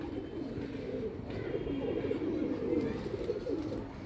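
Several pigeons in a loft coo softly and continuously, overlapping low throaty calls heard close up with no talk.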